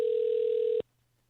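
A steady telephone line tone sounds loudly for about eight-tenths of a second while a call is being transferred to the Indiana Senate, then cuts off abruptly, leaving a faint low hum.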